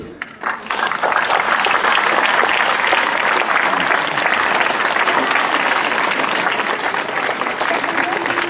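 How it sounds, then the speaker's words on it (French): A crowd at an outdoor religious procession, the Grand Pardon at Sainte-Anne-la-Palud, breaks into loud, sustained applause that swells quickly and carries on steadily, with a voice briefly audible at the start. "je crois qu'il faut vous applaudir"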